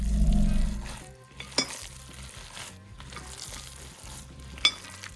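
Ground sausage meat being mixed by hand with liquid smoke in a bowl, giving soft, continuous wet squishing and stirring sounds, close up, with a couple of brief sharper clicks and no talking.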